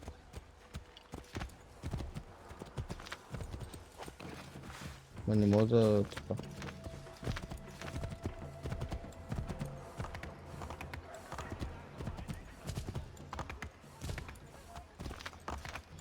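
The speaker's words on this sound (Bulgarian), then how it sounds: "Да, о, супер белия кон." Hooves of a white horse clip-clopping in Assassin's Creed III, a steady walking-to-trotting rhythm that runs through the whole stretch beneath ongoing game sounds, with someone talking over it.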